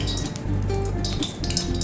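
Panch phoron spices drop into hot refined oil in a pan, giving a close, steady sizzle and crackle with light metallic clinks of utensils.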